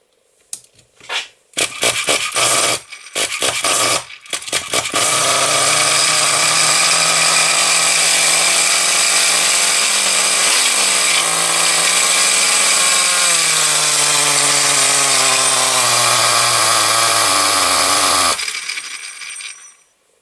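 A nitro RC model car engine is cranked in several short bursts and then catches, running at a loud, high, buzzing whine that wavers and shifts pitch for about thirteen seconds before cutting off abruptly into silence.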